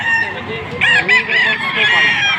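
A five-month-old stag rooster crows once, close and loud, at a chicken market, with clucking and a murmur of voices around it.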